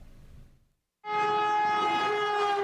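A new Amtrak Acela high-speed train under speed testing at a test facility outside Pueblo, Colorado roars in suddenly after a brief quiet, loud and sustained, with a strong tonal horn-like whine over the rush.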